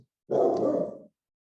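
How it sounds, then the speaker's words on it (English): An old dog lets out a single short, muffled bark or growl-like woof, nearby and fairly soft, in an otherwise quiet room. "that is not my stomach growling, that's my dog."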